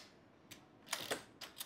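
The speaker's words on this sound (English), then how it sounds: "One stroke is to wind the film and set the shutter." A medium-format film camera winds the film and sets the shutter in one stroke. A few crisp mechanical clicks and short ratcheting bursts come close and dry, with quiet pauses between them.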